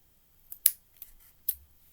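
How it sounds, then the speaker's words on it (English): Scissors snip through wool yarn close to a knot on a handmade worry doll: three or four short, crisp cuts in quick succession, close and clear against near silence. "you can get your scissors and chop the wool really close to the knot"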